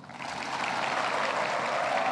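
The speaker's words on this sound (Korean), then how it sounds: "뜨거운 박수 부탁드립니다" An audience at a Fire Fighters' Day ceremony gives sustained, even applause after a presidential address, the clapping swelling in and holding as a broad, moderately distant wash.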